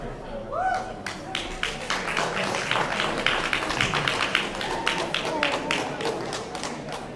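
Crowd applause and scattered clapping at an outdoor organizers' gathering in New York City, a dense, steady wash of hand claps and cheering lasting several seconds with some voices mixed in.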